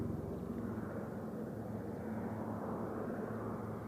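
A light airplane flying a repeated practice line over the Jack's Point track near Queenstown, New Zealand, gives a steady, distant engine drone that holds evenly throughout with no talk over it.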